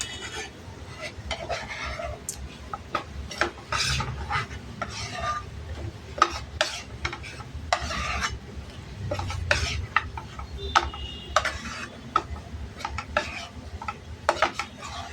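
Wheat flour roasts in ghee in a pan as a spoon stirs and scrapes it, producing soft irregular clinks and scrapes over a faint sizzle, fairly quiet throughout.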